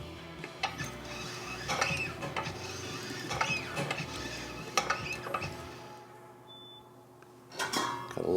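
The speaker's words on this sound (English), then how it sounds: "when you're bottling with these machines, I always like to put the first bottle back into the hopper" A bottling machine fills ghost pepper hot sauce bottles with continuous mechanical whirring and clattering, scattered clinks of glass and metal, close by, tapering into a quieter stretch before a final burst of clatter.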